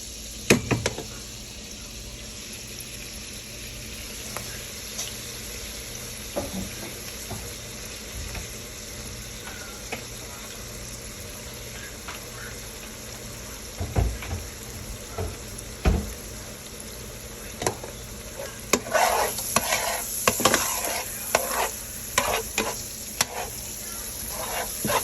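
Eggs and onion frying in butter on a home hibachi setup, a steady sizzle with intermittent scraping and stirring clatter that grows busier and louder toward the end, no talking.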